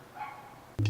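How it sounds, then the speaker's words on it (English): A dog barks once, sharp and fairly close, after a moment of quiet room tone. "That's a dog barking right now, and I meant to close the slider."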